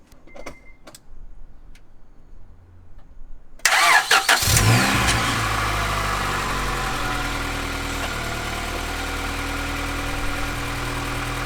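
A freshly refreshed Honda B18C engine in a JDM car cranks and fires after a few quiet ticks, then settles into a steady, loud, slightly rough idle that continues alone.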